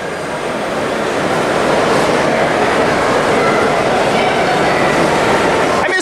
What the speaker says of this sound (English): Nice train, and there it goes.